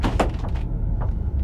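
A door closing inside a video game, a short dull thunk with a brief scraping knock at the start, followed by quiet background hum.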